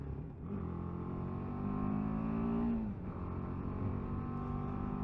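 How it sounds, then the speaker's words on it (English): A BMW G310 GS Rally motorcycle engine drones steadily from close up, its pitch climbing under throttle and then dipping as it eases off before pulling again. "It's a fairly noisy engine"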